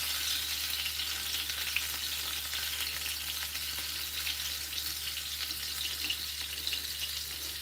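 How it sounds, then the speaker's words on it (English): Meatballs fry steadily in a pan at home, a continuous close hiss and crackle of sizzling oil holding even throughout, with no talk. "I'm just frying the meatballs"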